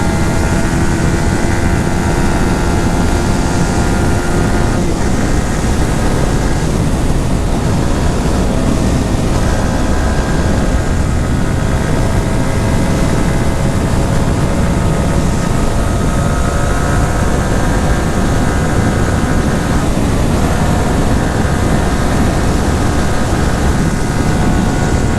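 Yamaha R15 V4 150cc motorcycle engine pulling in third gear, a loud steady roar with wind rush and rising tonal whine as revs climb, continuous throughout with no talk.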